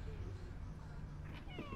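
A cat meows in the Half-Life: Alyx virtual reality game, a short rising cry near the end set against a low background hum, with no speech over it.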